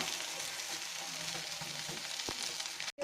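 A flipped masala omelette frying in a pan, a soft, even sizzle running through the short stretch, cut off by a brief clatter near the end.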